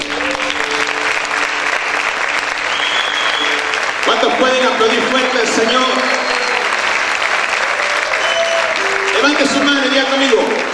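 A church congregation applauds loudly and steadily throughout, a dense wash of clapping with voices and music-like tones mixed underneath.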